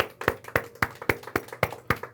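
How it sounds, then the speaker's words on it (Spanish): Steady rhythmic clapping at a religious teaching service, about nine sharp, evenly spaced claps in quick succession, close and clear with no voices over them. "un aplauso para Hashem."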